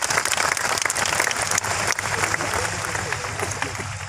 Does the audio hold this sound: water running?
no